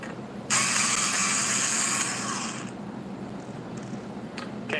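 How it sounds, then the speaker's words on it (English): A screw is backed out of the bottom plate of a PS4 console, a steady whirring, ratcheting sound that starts abruptly, stays close and loud for about two seconds, then fades into quiet handling noise. "So let's take those off and see if we can get it off."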